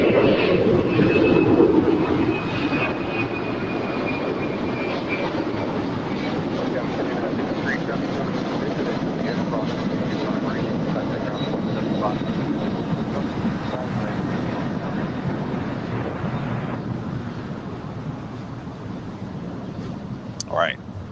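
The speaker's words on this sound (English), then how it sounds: "FedEx MD-11. Now rolling down 25 right." A FedEx MD-11 cargo jet takes off on runway 25 right at LAX, a continuous distant engine roar rising and then easing off, with a voice speaking briefly at the start.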